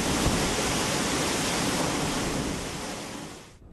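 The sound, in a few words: waterfall roaring down from a hill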